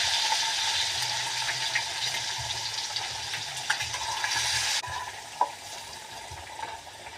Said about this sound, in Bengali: এখন আমি ভাজবো। এই যে কড়াইতে দিয়ে দিচ্ছি